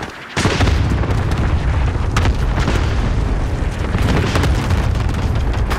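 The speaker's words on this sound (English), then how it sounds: "Allied cluster strike incoming." Cluster strike explosions in Call of Duty: Modern Warfare erupt in a loud, dense barrage, overlapping booms and crackling blasts rolling continuously from a sudden onset with no pause.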